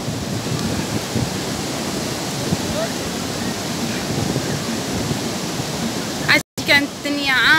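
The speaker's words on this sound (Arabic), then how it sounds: "شوفوا الماج، شوفوا البحر" Sea waves at Ain Diab beach wash in as a constant broad roar of surf, steady and fairly loud, briefly cut out near the end before a voice comes in over the noise.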